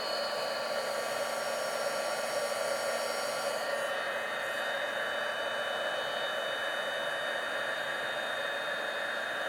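A heat tool blows steadily on embossing powder over a stamped dandelion image for papercraft, giving an unbroken, fairly loud whooshing hiss of fan air with a faint whine, continuous through the whole stretch with no talking.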